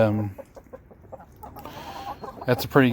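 Hens cluck in short bursts with a louder rooster call near the end, close by, over a low rustling background, from a backyard flock of ten hens and one rooster.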